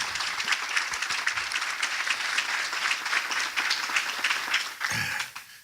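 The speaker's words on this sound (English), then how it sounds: "Everybody else can sit there and just applaud like crazy" A conference audience applauds for the steering committee, a steady dense wash of clapping that keeps going for several seconds and then tapers off at the end.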